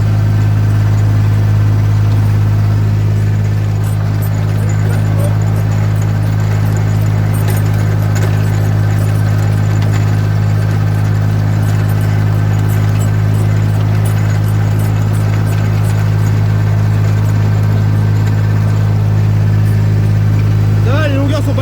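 A rotavator engine runs continuously in a garden with a loud, steady low drone and hum, while someone talks over it now and then.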